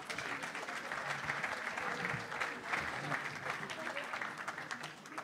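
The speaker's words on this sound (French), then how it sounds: "On peut vous applaudir bien fort." An audience at a conference on decarbonisation in the Seine valley gives steady, moderately loud applause, a continuous wash of clapping throughout the clip with a voice faintly underneath.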